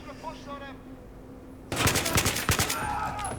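Rapid automatic gunfire from the video game Battlefield 3 breaks out in a dense burst of close, sharp shots after a quieter stretch of game ambience, with a voice talking faintly early on.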